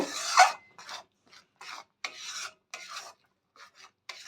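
Masala with potatoes and peas is stirred in a pan, producing a series of short, dry scraping strokes at an uneven rhythm, close and fairly clear, with silent gaps between.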